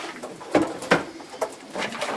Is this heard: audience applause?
no